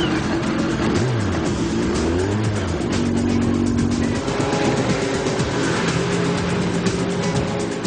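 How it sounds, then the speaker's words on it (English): A snowmobile engine revving loudly, with rising and falling pitch sweeps as it accelerates and eases off repeatedly, close and continuous throughout. "If you're having a Big Mac attack in this cold climate, you rev up your snowmobile."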